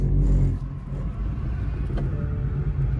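Car engine rumbling loudly at first, then easing into a steady low drone as the driver works the accelerator during a driving lesson, heard alone without talk.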